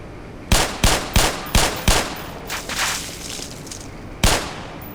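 A handgun in the game Black Mesa fires five sharp, evenly spaced shots, followed by softer impacts and one final shot after a short lull, with no voices heard.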